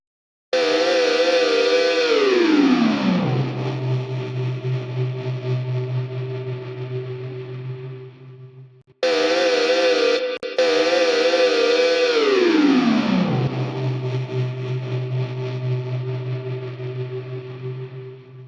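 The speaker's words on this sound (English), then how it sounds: "that was a sort of humming of the guitar amp" Humming from a guitar amp, heavily processed and stretched, swells in loud, then slides down in pitch to a low sustained drone; the whole sweep plays twice with a brief break between.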